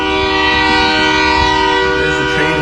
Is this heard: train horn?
yes